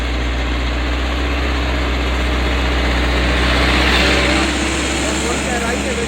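A tractor pulling a deep tiller while preparing a potato field, its heavy diesel engine a loud steady low drone with a slight swell midway, mechanical rattle layered over it.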